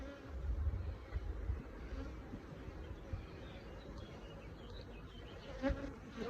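Honey bees buzz around hive frames during an apiary visit in June, a steady low insect drone close by with a few louder passes near the start and end, no talking.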